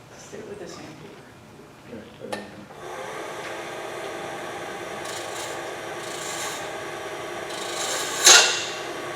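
Sandpaper rubbed over a small wood cutoff: scattered light scrapes and taps at first, then a steady close rasping stroke that swells near the end, with faint talk at the start.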